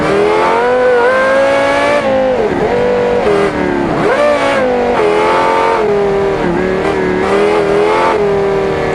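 A car engine in the driving game BeamNG.drive revs loud and close while driving through a town, its pitch climbing and dropping with repeated gear shifts and throttle lifts, with no talk.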